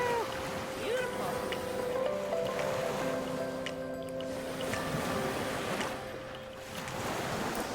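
Waves washing onto a Lake Michigan beach in a steady broadband wash, with voices talking in the background and some tonal hum mixed in.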